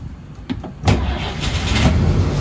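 A World War II DUKW amphibious truck engine cranks with a few clattering bursts, then catches and roars into a loud, steady run inside a large hangar.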